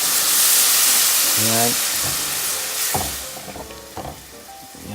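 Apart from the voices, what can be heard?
water added to sautéed corned beef, garlic and onion sizzling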